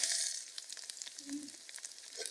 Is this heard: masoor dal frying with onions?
yes